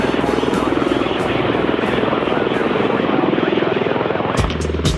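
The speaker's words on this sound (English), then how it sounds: "The two-seat S-47 Sikorsky helicopters entered service in the US and the British armies already in the course of the war." A two-seat Sikorsky S-47 helicopter from wartime service runs loudly and steadily, its rotor chopping in a fast, even pulse throughout, close and with no voices.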